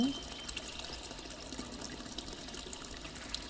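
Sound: pouring noodles into pot with water

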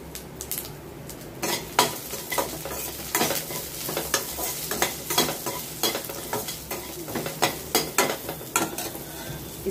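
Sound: onions sautéing in a pan

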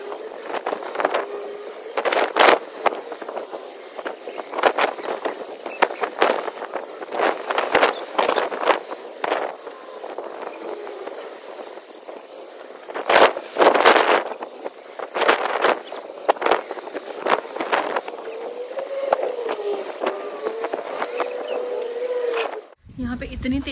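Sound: strong wind blowing outdoors

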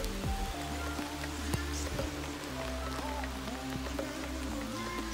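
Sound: rain

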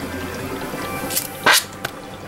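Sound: water pushed by hydrogen gas back into a bucket

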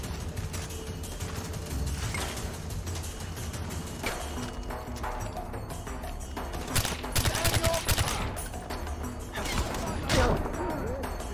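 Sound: gunfire from the video game Far Cry 4

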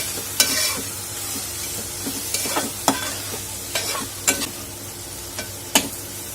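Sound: stirring fish with garam masala and chili powder

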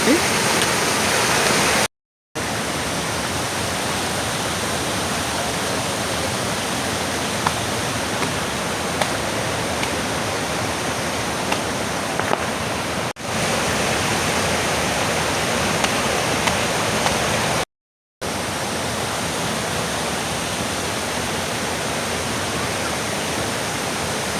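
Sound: water flowing in a stream below a filled village dam

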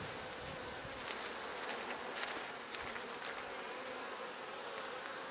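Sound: honey bees buzzing during honey harvest

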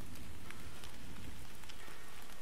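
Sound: rain falling outside in the video game Dreams

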